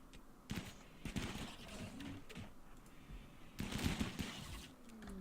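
Gunfire from the RimWorld video game comes as quiet, rapid bursts of small shots in two clusters, with softer clatter between them and no talking.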